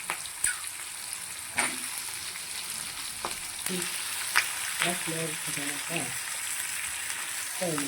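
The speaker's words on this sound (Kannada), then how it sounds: "ಇವಾಗ ಇದನ್ನು ಸ್ವಲ್ಪ ನಾನು ಎಣ್ಣೆಯಲ್ಲಿ ಫ್ರೈ ಮಾಡ್ಕೊಳ್ತಿದ್ದೇನೆ" Onions frying in oil for a capsicum gravy, a steady close hiss of sizzling with occasional clinks and stirring scrapes, faint voice murmurs underneath.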